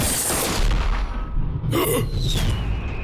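Anime gunfire during a tense game: a booming shot bursts out around the middle of the moment, set against a sustained musical or electronic tone, with no voices.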